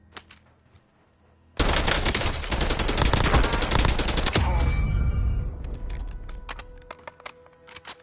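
Shotgun blasts in a shooter video game, a dense, loud barrage of rapid gunfire and impacts lasting a few seconds, then tapering into scattered clicks and softer shots.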